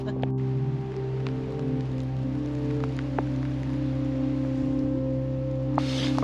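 A heavy rain downpour during a woodland walk on the Southern Upland Way makes a steady, dense hiss throughout, with a low background hum and a few faint voices.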